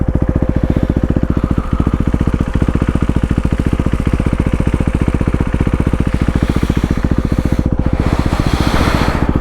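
A motorcycle rides along a road near a lake, its engine a loud, steady, close pulsing drone that continues throughout with wind rush over it and no speech.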